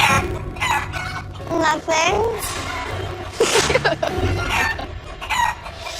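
Chickens cluck and a rooster crows nearby on a MasterChef Junior set with a haystack, loud and busy fowl calls mixed with children talking over them.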